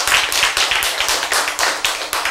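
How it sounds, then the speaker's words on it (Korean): Church congregation clapping during a sermon, a brief, loud burst of close, rapid handclaps in an uneven rhythm. "박수!"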